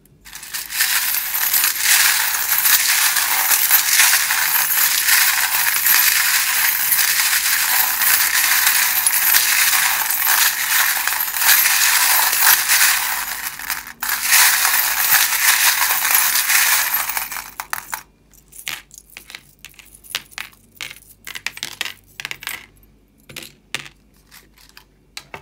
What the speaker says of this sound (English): if you don't like the sound of the charms being shuffled